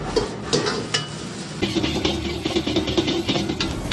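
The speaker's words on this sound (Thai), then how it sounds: "ตีข้าวให้แตก และใช้การพัดด้วยไฟแรงครับ" Busy wok cooking of crab fried rice over high heat, with continuous sizzling and rapid scraping and clanking of a spatula against the pan, close and steady.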